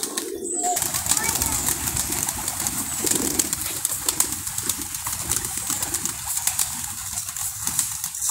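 Pigeons coo steadily in a loft, soft throaty rumbling calls overlapping under a dense hiss of background noise, with a brief flutter of wings near the start and a person talking over them.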